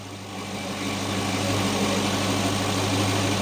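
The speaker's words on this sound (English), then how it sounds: "Got the engine running" A car engine idles steadily during air conditioning repair work, a low, even hum with constant vibration that grows slightly louder after the first second, with no voices.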